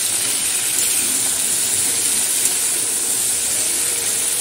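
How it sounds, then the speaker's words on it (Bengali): Vegetables frying in a pan give off a steady, loud hiss of sizzling oil, broad and unbroken from start to finish, with no voices over it. "দেখো সবজিগুলো খুব ভালো করে ভেজে নিচ্ছি।"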